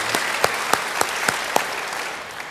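A church congregation gives steady applause, a continuous wash of clapping with a few louder individual claps standing out at a regular pace, and no speech over it.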